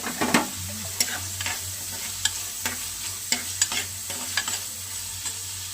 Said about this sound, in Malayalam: നമ്മൾ വെളുത്തുള്ളിയും ചെറിയുള്ളിയും ചതച്ചെടുത്ത് അത് നമുക്ക് നല്ല ചൂടായ ചട്ടിയിലേക്ക് വെളിച്ചെണ്ണ വെച്ചിട്ട് ഇടാം